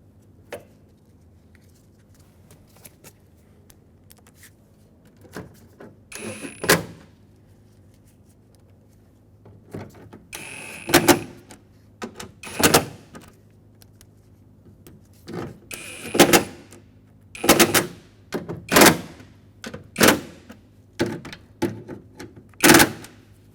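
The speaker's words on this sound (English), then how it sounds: "Start in the 4 mounting screws that hold it on." Speaker mounting screws are driven into a 2000-2005 Ford Excursion door, heard as a series of sharp, close clicking and ratcheting bursts that start sparse and grow denser, with quiet gaps between them.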